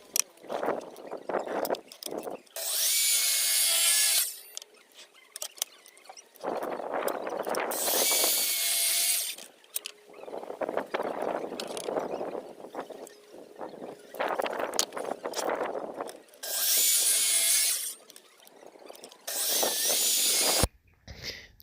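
A power saw cuts wooden boards at 45 degrees for a wooden garden planter. Four short, loud, hissing cutting bursts are separated by quieter spells of board handling and knocking nearby.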